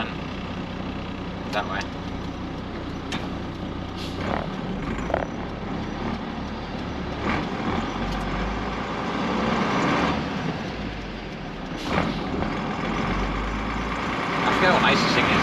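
A 1980 Volvo F7 truck drives along the road, its steady engine rumble filling the cab throughout, with occasional clicks and knocks and someone talking briefly over it.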